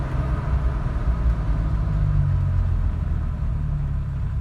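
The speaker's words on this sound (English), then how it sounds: "Great little engine, the slant 6 on this." A 1978 Dodge D100 truck with a rebuilt slant 6 engine cruises along, a steady low engine rumble and road noise heard from inside the cab with no talking.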